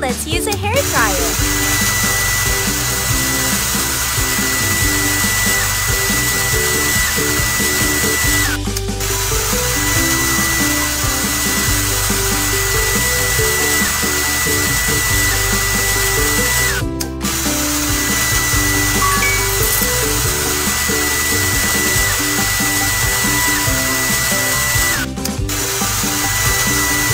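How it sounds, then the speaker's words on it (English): A steady whirring hair dryer runs in a panda baby care kids video game, a constant droning buzz with brief interruptions, under upbeat game music and sound effects. "Now let's use a hair dryer."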